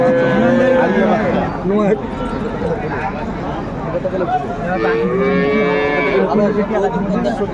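Dairy cows and calves at a cattle market in Cumilla low and moo repeatedly, long drawn-out calls close by, with people talking over and between them.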